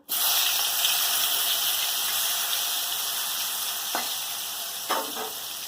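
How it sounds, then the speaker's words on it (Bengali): Oil sizzles loudly from the first moment as salted, turmeric-coated raw banana slices hit the pan, with a couple of brief utensil clicks against the steady frying. "এবার নুন হলুদ মাখিয়ে রাখা কাঁচকলাগুলো ভেজে নেব।"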